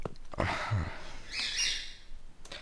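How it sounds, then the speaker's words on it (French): Small birds chirp and tweet in short, faint bursts, with a few brief sharper calls scattered over a quiet background. "Alors, excusez-moi pour les oiseaux déjà."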